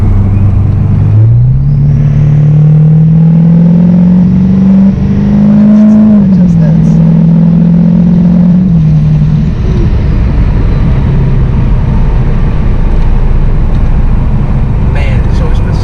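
An LML diesel pickup truck accelerates hard in tow haul mode, its loud engine rising steadily in pitch through the gears over several seconds before easing off into a constant cabin rumble.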